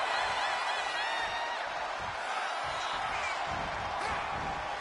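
In the WWE 2K25 video game, a wrestling arena crowd roars steadily and loudly throughout, a dense, continuous wash of cheering with occasional whoops.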